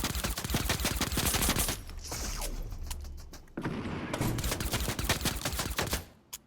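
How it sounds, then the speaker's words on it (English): Rapid bursts of shotgun fire in the Fortnite video game, loud and dense, with mechanical reload clicks in a quieter gap before the shots resume. "the problem with the shotguns is that you may take a long time in reloading, and oh my god, that is loud"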